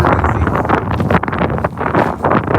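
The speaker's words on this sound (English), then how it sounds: "It's breezy." Strong breezy wind in Dallas–Fort Worth gusting outdoors, roaring and buffeting the microphone in loud uneven surges with brief dips between gusts, no clear voices over it.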